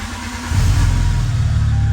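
Engine of a 1996 Volkswagen MKIII catching and starting after a brief quiet moment, then settling into a loud, steady idle rumble up close.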